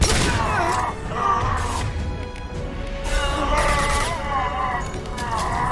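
Video game gunfire in Mass Effect Legendary Edition during a combat mission, dense bursts of shots and impacts mixed with game music and distant voices, loud and continuous throughout.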